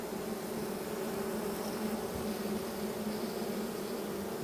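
A dense, continuous buzzing of many honeybees at a hive, steady and fairly close, with no voices, holding an even hum throughout.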